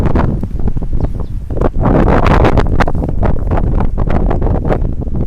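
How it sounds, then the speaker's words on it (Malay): Strong morning wind sweeps across the Tasman holiday park in Te Anau, New Zealand, buffeting the microphone in loud, continuous rumbling gusts with light rustling underneath. "Pagi ni angin agak kuat."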